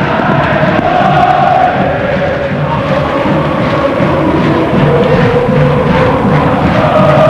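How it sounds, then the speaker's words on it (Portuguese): Ponte Preta supporters at a 2001 Paulistão football match against São Paulo, a loud, continuous stadium crowd roar of cheering and chanting that holds steady throughout, with no talk over it. "A torcida da Ponte Preta não para."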